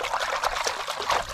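Water trickles steadily outdoors near muddy ground where an animal is being coaxed to drink, a soft continuous close dribble with no voices.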